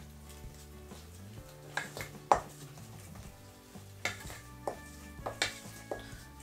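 Sky blue coloured icing stirred in a bowl, soft scraping and occasional clinks of a utensil against the bowl, fairly quiet under faint background music.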